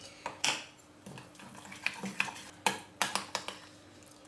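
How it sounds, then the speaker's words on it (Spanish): Tomato and cilantro canapé filling being mixed in a bowl, with a spoon clinking and scraping against the side in irregular light taps, close and fairly quiet. "Le voy a poner también la mitad del cilantro y ahora voy a mezclar"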